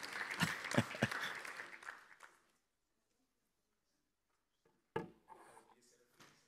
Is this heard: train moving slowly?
no